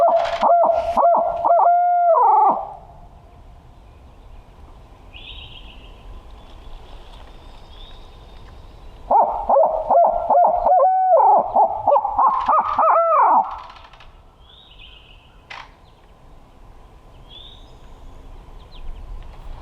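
A human voice imitates a crow's caw for turkey hunting, two loud bursts of repeated harsh calls separated by quiet, with faint birds calling between them.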